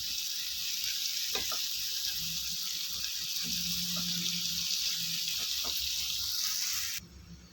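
Onions fry in oil until browned with a steady sizzle, a few faint clinks and a low hum, continuous and close, cutting off abruptly near the end.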